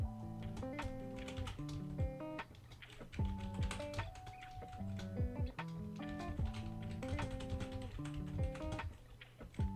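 Continuous clicking of keystrokes on a computer keyboard, close and fairly quiet, with irregular bursts of typing and short pauses; no talk.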